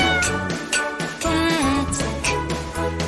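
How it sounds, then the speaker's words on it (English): A cat's meow rings out in a cheerful children's phonics song, sounding in short repeated calls woven into a bright musical backing with jingling accents, loud and busy throughout. "C is for cat, cat,"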